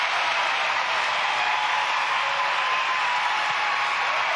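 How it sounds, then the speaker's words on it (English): A football crowd at Tallaght Stadium stands for a women's international friendly between Ireland and Zambia, giving a steady, dense wash of cheering and applause with no letup. "you can see the crowd here in Tala, they're all on their feet"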